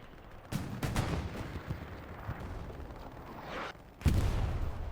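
Artillery and gunfire boom through a combat game match, with a sustained rumble of distant shelling, a few sharp blasts near the start and a heavier impact toward the end.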